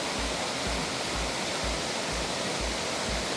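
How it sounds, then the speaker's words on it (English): Stream water on a Smoky Mountains backcountry hike near Enloe Creek, crossed at about shin depth, rushing in a loud, steady, close wash with low splashing pulses and no talk. "And here is a nice water crossing that you have to do."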